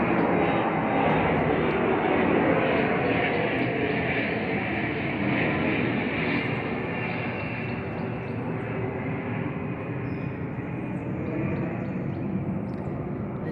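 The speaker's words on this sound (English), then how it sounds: "There's an airplane flying over." A distant airplane flying overhead gives a broad, steady rumbling roar that slowly fades over several seconds, heard alone without talk.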